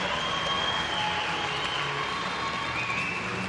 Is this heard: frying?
no